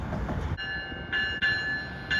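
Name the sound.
trains at Harrisburg station, ACS-64 and P42 locomotives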